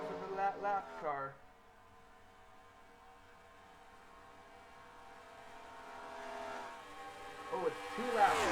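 Stock car race cars roar in a racing video game, their engine note rising steadily over several seconds and building toward a louder, denser pass near the end, with a voice speaking at the start.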